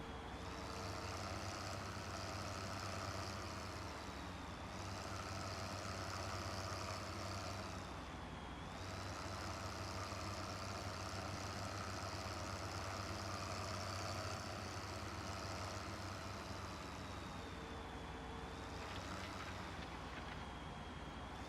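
Steady engine drone of an articulated tractor in Farm Sim 15, running continuously with a humming whine that dips and rises in pitch a few times as it works, loud and unbroken, with no talking.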